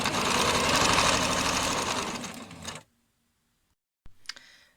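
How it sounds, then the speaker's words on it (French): A sewing machine runs steadily for almost three seconds, stitching a seam at the top of a fabric bulk bag, then stops abruptly; after a short silence a brief second burst of stitching follows. "Faites maintenant une couture bien à droite"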